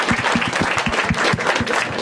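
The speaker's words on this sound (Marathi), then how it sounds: "एकदा टाळ्या वाजवा राहण्यासाठी" Audience applause at a standup comedy crowd-work show, brisk continuous clapping with a few distinct sharp claps standing out, near and fairly loud throughout.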